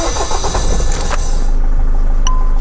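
A camper van engine cranks over and settles into a steady idle, loud and close, with a brief mechanical rattle as it catches and no talk.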